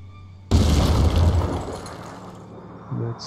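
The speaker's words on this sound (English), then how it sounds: "So, throw grenade here" A grenade blast in the Phoenix Point video game lands as a sudden loud boom that rumbles and fades over about two seconds, followed by a short mechanical thump.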